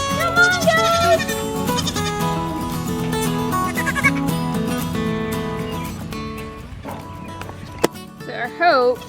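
Several goats bleat loudly and repeatedly nearby on a homestead, their wavering calls overlapping one another.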